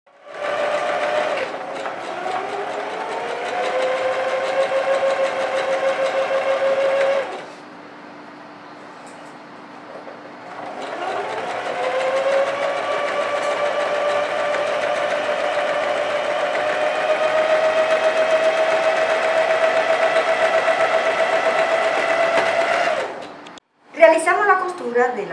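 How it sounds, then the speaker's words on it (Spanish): An overlock sewing machine stitches a seam edge with a steady, droning motor whine. It stops briefly, restarts and runs on, then gives way to a short clatter at the end. "Vamos a realizar la costura por la parte media con un overlock en el orillo."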